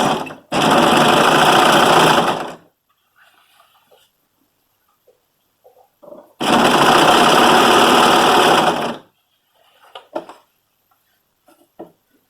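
Sewing machine stitching the second seam of a sweater in two loud, close bursts of about two seconds each, separated by quiet pauses with faint handling clicks and fabric rustle.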